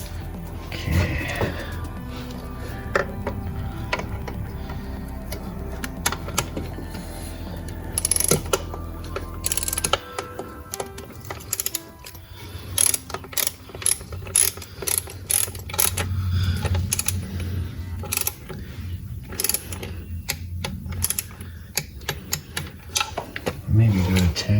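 Ratchet clicking on a coolant hose fitting of a 1999 BMW 328i E46, quick bursts of small metallic clicks and tool clatter close by, interspersed with talk.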